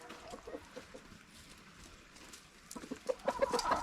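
Chickens cluck on a farm, fairly faint at first and then louder, close clucks in an irregular rhythm over background noise.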